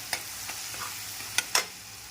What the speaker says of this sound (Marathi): तेलामध्ये मिरचीचा ठेचा घातला आहे छान परतवून घेऊया